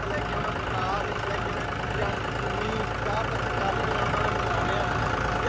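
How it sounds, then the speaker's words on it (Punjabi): A John Deere tractor with very tight steering runs with a steady, continuous mid-to-low engine drone that holds at an even level throughout. "ਕਾਫੀ ਦਿਨਾਂ ਬਾਅਦ ਟਰੈਕਟਰ ਚਲਾਇਆ"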